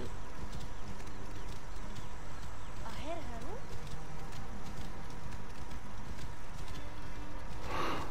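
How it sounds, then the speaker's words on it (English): A horse gallops in Assassin's Creed Origins, its steady hoofbeats running through a dense, continuous game soundscape, with a brief tonal call near the middle. "as I get out of the actual area, the horse will start galloping a bit quicker"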